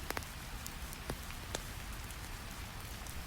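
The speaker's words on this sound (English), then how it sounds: "Rain fades to occasional drops." Soft rain in a mountain setting has faded to a faint hiss, with occasional isolated drops tapping nearby at irregular intervals.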